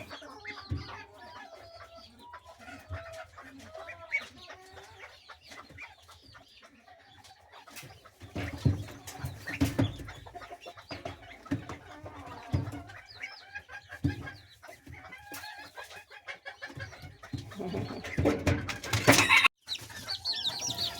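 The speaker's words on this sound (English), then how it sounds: "These are our BB Reds Bantam chickens." BB Red Bantam chickens cluck and coo in a backyard flock, soft scattered calls rising into louder, busier fowl chatter toward the end, heard alone without talk.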